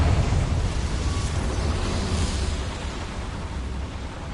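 A fire blast spell in Hogwarts Legacy: a loud, sustained roaring burst of flame that starts strong and slowly fades over a few seconds.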